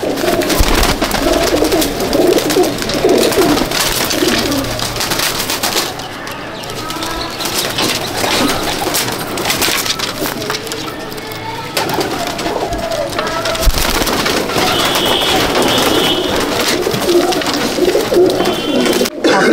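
Pigeons coo continuously in a loft where a young Jamuni Panjai is kept, overlapping throaty calls from several birds filling a busy, close soundscape.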